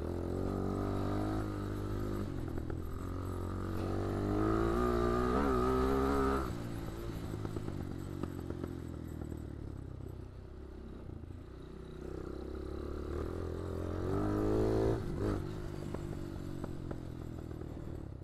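A motorcycle engine revs and pulls hard while accelerating in second gear during a wheelie, its pitch climbing and dropping through the run in a close, continuous drone.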